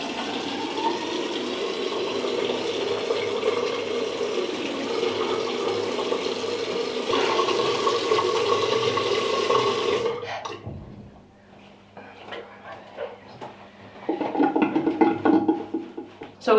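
A bathroom tap gushes water steadily for about ten seconds, close and fairly loud, then cuts off, followed by quieter splashing and dripping as hands move through water.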